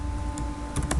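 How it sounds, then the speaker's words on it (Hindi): Keys on a computer keyboard are pressed in a brief close burst, a few quick clicks over a faint steady hum, with no talking. "तो आप यहाँ पर फिर से मुझे टाइप करना पड़ेगा"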